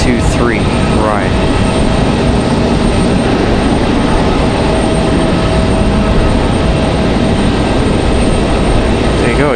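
Airliner landing on runway 23R at Raleigh Durham airport, a loud steady roar of engines and rushing air filling the scene, with a commentator talking over it.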